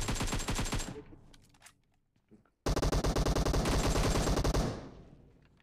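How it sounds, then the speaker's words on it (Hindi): Loud, close automatic gunfire in PUBG Mobile: a short rapid burst, a near-silent gap with faint distant shots, then a longer sustained volley of evenly spaced shots that cuts off abruptly. "हमारे सामने से फायर हो रहा है"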